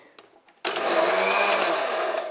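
After a brief quiet rustle, a kitchen blender kicks on abruptly and whirs loudly and steadily, mixing dry ingredients for carrot cupcakes, a close continuous motor drone.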